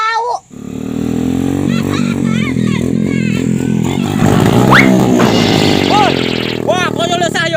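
A motorcycle engine drones loud and close for several seconds, a steady buzzing roar with slight rises in pitch as it rides past, with faint voices and other small sounds mixed in.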